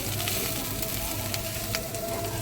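Dry prawns fry in oil for a curry, a dense, steady sizzle and crackle filling the whole stretch with a few sharper pops, close and fairly loud.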